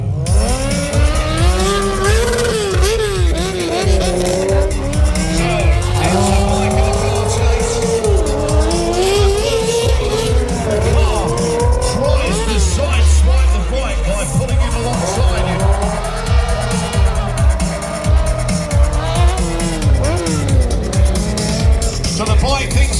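A car screeching its tires through a staged chase with a motorbike at the Santa Pod Bug Jam 2022 event, with loud continuous engine roar and squealing, and people talking throughout.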